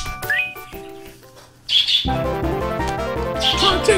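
A pet chicken lets out a few sharp squawks and chirps close by, then game music with a steady beat takes over.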